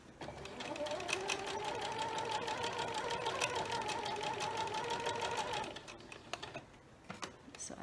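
A sewing machine stitches quilt fabric pieces in a fast, steady mechanical chatter for several seconds, then stops, leaving quiet handling sounds and light clicks.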